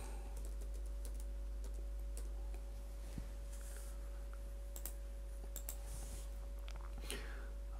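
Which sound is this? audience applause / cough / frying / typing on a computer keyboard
typing on a computer keyboard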